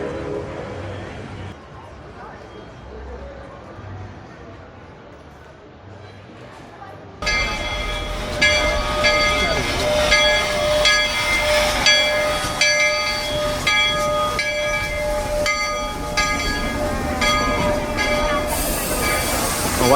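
An amusement-park train ride at Knott's Berry Farm rumbles along with clattering wheels and high metallic squeals, loud and continuous after a quieter start with faint background voices.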